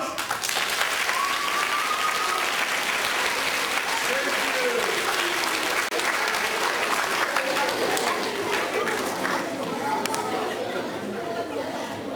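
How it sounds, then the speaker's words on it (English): A school assembly audience of children claps in a steady round of applause with lively crowd chatter mixed in, sustained across the whole stretch at moderate volume. "we're going to give you a big round of applause"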